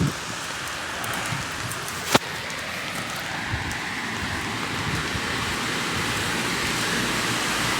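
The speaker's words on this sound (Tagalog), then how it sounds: "palakas na naman ang ulan" Steady rain pours onto a street in Birkirkara, Malta at dawn, a continuous hiss of drops on pavement with one brief sharp knock partway through.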